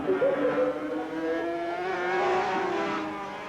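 500cc Grand Prix racing motorcycles at Donington Park in 1981, heard as a steady, droning high engine whine that holds close and loud, with the pitch drifting slightly as the bikes carry on around the circuit.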